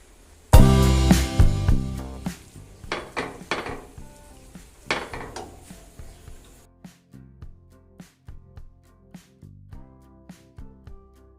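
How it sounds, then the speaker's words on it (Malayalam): Cooked beef being tossed together with masala in a pan, a loud initial clatter followed by repeated spoon scrapes and knocks on metal with faint sizzling underneath, close and steady, gradually softer. "ബീഫും ഈ മസാലയും കൂടി ഞാൻ യോജിപ്പിച്ചെടുക്കുകയാണ് ചെയ്തത്"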